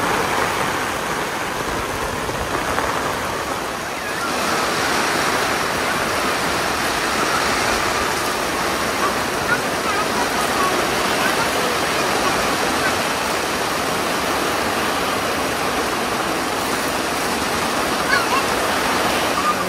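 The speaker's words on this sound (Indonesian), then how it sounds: "Hujannya deras banget." Heavy rain drums on a camping tent flysheet as a dense, unbroken roar that holds steady for twenty seconds, with faint voices in the background.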